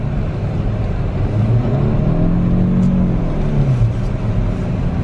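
A drift car accelerates with a close, loud engine rumble that rises and falls in pitch as the revs climb and drop, over a constant roar of wind and road noise. No one speaks.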